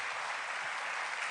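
A church congregation applauds loudly during a Spanish-language sermon, a steady dense wash of clapping filling the whole short moment with no speech over it.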